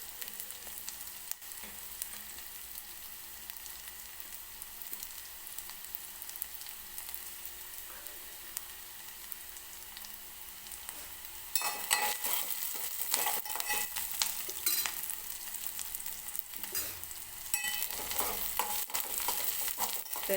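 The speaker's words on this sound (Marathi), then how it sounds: "कांदा मी व्यवस्थित तेलामध्ये भाजून घेते" Onion fries in oil in a pan, a faint continuous sizzle that swells louder about halfway through, with soft irregular crackles and stirring, no voices.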